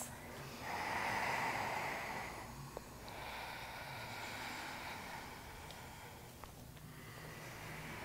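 Slow, deep breaths drawn through the nose during a vinyasa yoga pose, soft and airy, with a long inhale swelling and then easing into a steady exhale.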